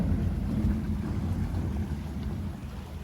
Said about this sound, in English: I see rushing water, and I hear it too.